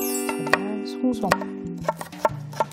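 A knife finely slicing green and red chili peppers and green onion on a cutting board for Korean doenjang jjigae, with a series of crisp, close, irregular chops over a low background hum.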